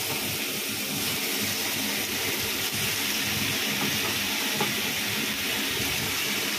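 Salted, turmeric-coated potatoes fry with onions in a pan using very little oil, giving a steady close hiss and sizzle with faint bubbling throughout.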